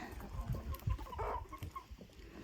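A rooster and hens on a Ukrainian village farmyard, with soft repeated clucks and short calls close by over a quiet background.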